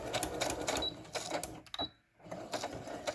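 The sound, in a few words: sewing machine straight-stitching plastic packaging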